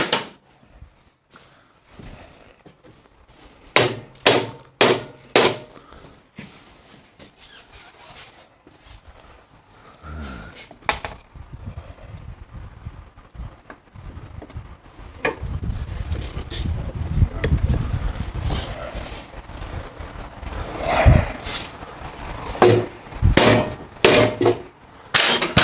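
Hammer blows drive an axle into the rear wheel of a Panhead Harley-Davidson, sounding as sharp metallic clanks in quick bursts, with scattered knocks and shop clatter between them and a denser run of strikes toward the end.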